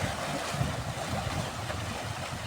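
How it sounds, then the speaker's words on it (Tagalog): Ocean waves wash steadily against the rocky shore at Lei Yue Mun, Hong Kong, making a continuous broad surging hiss with no one speaking. "pakinggan po natin ang alon ng karagatan"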